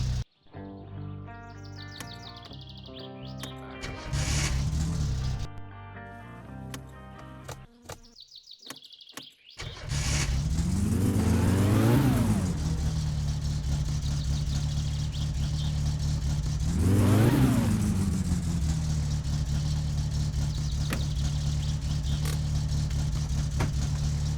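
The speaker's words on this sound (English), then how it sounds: "I'm still not sure about the engine sounds." In the video game My Summer Car, a car engine revs repeatedly, climbing and falling in pitch in two pronounced sweeps. Before that, a quieter idle with tonal mechanical notes plays. No voices are heard.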